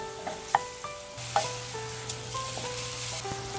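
Shrimp sizzle in a hot pan with salt, a few clinks and scrapes of stirring popping out over the even frying hiss, quiet and close with no talk.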